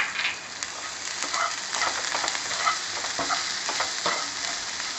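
Stuffed brinjal frying in ghee with garam masala powder, a dense steady sizzle and crackle with scattered pops and a few stirring scrapes, close and continuous.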